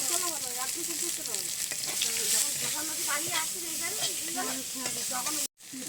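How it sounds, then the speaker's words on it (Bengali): Dried red chillies, whole cumin and chopped onion sizzling in hot oil, a loud, close, continuous frying hiss with someone talking over it throughout. "এই তেলে 2-3টে শুকনো লঙ্কা দিয়ে দিচ্ছি, আর দিয়ে দিচ্ছি একটু গোটা জিরে ফোড়নের জন্য, আর দিয়ে দিচ্ছি পেঁয়াজ কুচি।"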